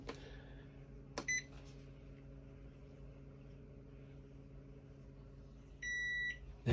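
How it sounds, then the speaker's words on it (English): A microwave oven runs with a steady low hum, broken by a single short beep early on and a brighter electronic beep near the end, heard alone in an off-grid, battery-powered home setup. "Now, if I want to use the microwave"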